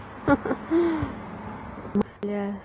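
Owl-like bird calls: several short hoots spaced unevenly, followed by a slightly longer call near the end, heard at moderate volume over a quiet background.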